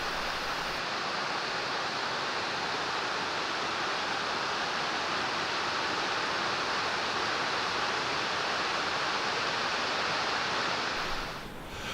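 Waterfalls spilling over limestone travertine barriers, a loud, continuous broadband rush of falling water that holds steady throughout with no voices.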